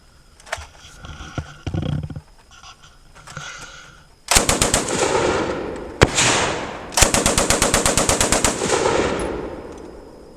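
A DP Degtyaryov machine gun fired outdoors in loud, close bursts of rapid shots, one long string and then another, after a few scattered softer noises at the start.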